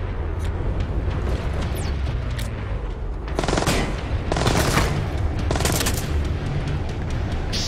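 Enemy gunfire in the stealth video game Splinter Cell Blacklist at an abandoned mill, loud dense bursts of automatic shots and booming blasts rolling on continuously, with several sharp volleys standing out over the din.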